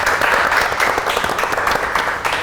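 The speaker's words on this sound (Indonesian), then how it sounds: "Boleh minta tepuk tangan untuk siang hari ini" Audience applause for a live business podcast session about promoting Jogja specialty products, a dense wash of clapping holding steady and then fading slightly toward the end.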